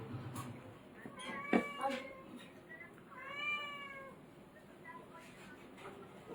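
Domestic cat meowing several times, clear harmonic cries near the start and a longer one midway, with children and adults chatting indoors in the background.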